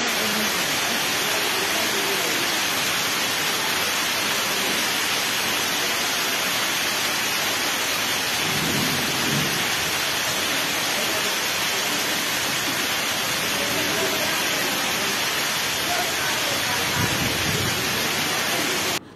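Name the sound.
heavy rain and thunder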